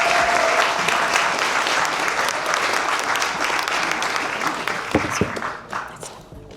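Sustained, dense applause from an audience at a Women of the Year ceremony, loud and even for several seconds before thinning into scattered claps and tapering off.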